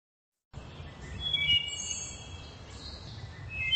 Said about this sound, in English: This is a wood thrush, and here's what a wood thrush sounds like.